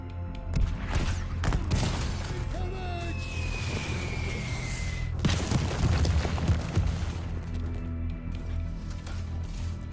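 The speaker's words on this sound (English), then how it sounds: "An artillery bombardment." Artillery bombardment in the war game War Hospital, set in World War I trenches: dense rumbling booms and bursts roll on continuously with a whistling shell streak, loud and layered, while a voice talks over it.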